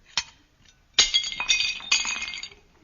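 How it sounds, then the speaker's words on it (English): Drinking glasses clinking and then smashing in a fireplace, a sharp clink followed by several bright shattering crashes with tinkling fragments, close and loud with no voices. "We drank and smashed our glasses in the fireplace"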